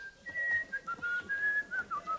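A man whistles a quick, wavering tune in short phrases, clear and fairly close over a quiet background.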